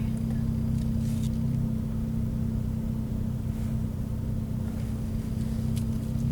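A manual-transmission car creeps around a parking lot with a 10-year-old at the wheel, its engine holding a steady low idle-like drone heard from inside the cabin, with faint clicks and rustles on top.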